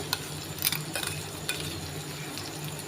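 Crushed green chili paste being sautéed in a pan with a soft, steady sizzle and light stirring clinks and scrapes, recorded up close with no talking.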